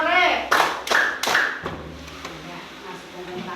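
Children in a classroom clap along to a chant, giving three sharp claps in quick succession near the start before the sound settles into a quieter, murmuring room tone.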